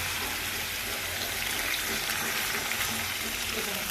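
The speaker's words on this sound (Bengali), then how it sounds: "আমি তাই জল দিয়ে দেবো।" Water poured into a pan of frying potato curry gives a broad, steady hiss and bubbling rush that stays loud and constant throughout.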